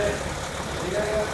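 A BMW 535d diesel engine runs with a steady, rough mechanical drone, rising slightly toward the end, close by, revved while drifting with driveshaft and axle trouble.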